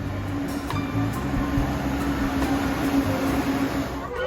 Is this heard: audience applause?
no